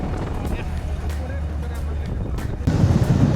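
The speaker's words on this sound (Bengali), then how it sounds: "প্রচুর বাতাস, আমার হেডফোনটা দিয়ে কথা বলতে হবে।" Strong wind buffeting on a boat trip toward Dim Pahar near Remakri in Bangladesh, a constant low rumble of gusts and engine-like drone that thickens and grows louder near the end, close to the microphone.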